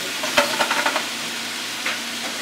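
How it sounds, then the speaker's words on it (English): Wine poured into a hot pan of bacon fat and cabbage, with a burst of sizzling and a few stirring clatters near the start, then a steady, moderate frying hiss with no talk. "So I'm going to put the wine in first, maybe about 2 or 3 ounces"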